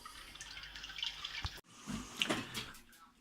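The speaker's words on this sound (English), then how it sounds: "So we've got the last of the sparge water in." Sparge water trickling and dripping through the grain bed inside a Grainfather all-in-one brewing system during an IPA brewday, a steady close watery patter with irregular drips and splashes, no talking.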